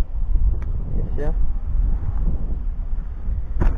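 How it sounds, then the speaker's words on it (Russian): Strong wind gusts buffet the microphone outdoors beside a lake while fishing from shore, a steady low roar with brief louder bursts and a faint voice in the background. "Сегодня погода ветреная."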